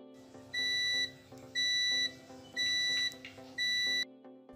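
Four evenly spaced electronic buzzer beeps, each about half a second long, sharp and steady in pitch, with short gaps between them.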